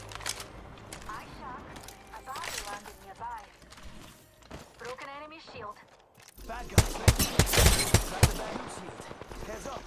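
Bursts of automatic gunfire and single shots in an Apex Legends ranked match, crackling in clusters that grow louder and denser toward the end, with a voice talking over the shooting.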